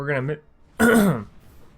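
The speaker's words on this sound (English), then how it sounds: "make myself cough, apparently" A man clears his throat twice, close to the microphone: a short rasp, a brief pause, then a longer, louder voiced hack that fades out.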